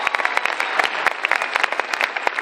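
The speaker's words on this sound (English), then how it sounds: "Give them a round of applause." On the Oasis of the Seas cruise ship, an audience at a live couples game show applauds a couple with brisk, lively clapping full of sharp individual claps close by.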